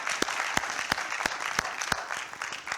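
Steady audience applause fills a hall at a leadership event, dense overlapping claps with a few sharper near claps standing out, moderately loud and continuous throughout.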